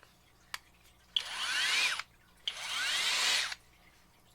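A HOTO brushless cordless drill spins up twice in the open air, each run a loud, high whine lasting about a second, with quiet clicks between runs.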